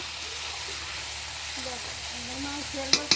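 Chicken pieces frying in a pan for chicken kosha while being stirred, a steady close sizzle with scraping, and a voice speaking quietly over it.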